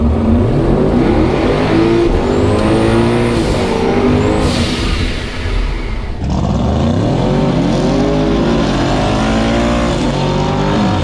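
Nitrous, carbureted LS-swapped Chevrolet Nova with a manual gearbox revving at the track, loud rough engine rising and falling through several throttle blips with a short dip midway, heard up close with no speech.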